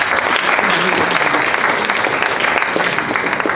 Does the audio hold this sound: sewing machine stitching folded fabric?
no